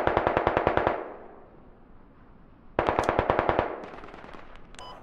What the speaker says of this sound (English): Building on map is shooting at us.